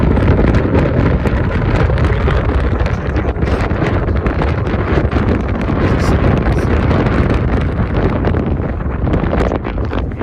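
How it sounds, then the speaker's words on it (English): Heavy wind buffeting a microphone on a Pacific Crest Trail hike in Washington, a loud continuous rumbling roar with gusty crackle that never lets up. "You probably can't hear me because it's windy."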